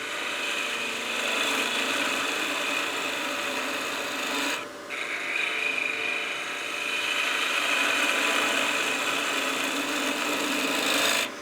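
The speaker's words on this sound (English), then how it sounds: "This is a good bevel writing cut here" Continuous raspy scraping of a lathe tool making a bevel cut into a spinning wooden bat house ornament, steady and close throughout with a brief dip partway through.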